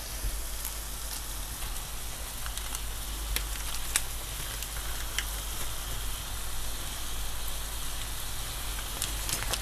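Boursin garlic and herb soft cheese sizzling in a hot pan, a steady, close hiss of frying with occasional crackles and pops, no voices.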